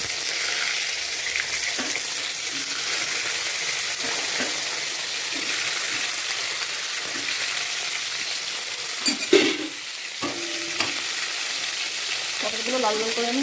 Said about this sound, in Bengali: কড়াইতে আমি সর্ষের তেল দিয়ে তেলটা গরম হলে পটলটা লাল লাল করে ভেজে নেব